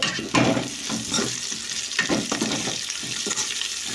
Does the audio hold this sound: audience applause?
no